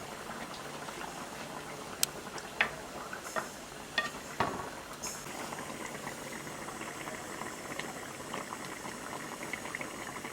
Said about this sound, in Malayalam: നമ്മുടെ മീൻ അടുപ്പത്തിട്ടിട്ട് ഒരു 20 മിനിറ്റ് ആയിട്ടുണ്ട്